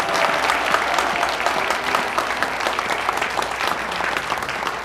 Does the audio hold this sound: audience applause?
yes